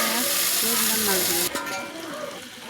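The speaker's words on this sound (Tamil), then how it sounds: "இப்போ வெங்காயம் வதங்கும் போதே நம்ம மல்லித்தலையும் புதினா தலையும் சேர்த்துக்கிட்டோம்" Onions sauté in oil with coriander and mint leaves, giving a continuous close sizzle while a spoon stirs the pan, marked by a sharp scrape partway through and a slightly quieter frying afterward.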